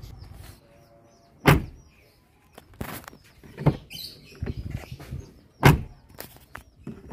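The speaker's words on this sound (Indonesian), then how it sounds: "Selanjutnya saya tes untuk menutup dan membuka pintunya." A car door fitted with a new rubber door seal is shut and opened several times, giving sharp thuds and clicks spaced apart, with rustling and latch handling between them and no talk.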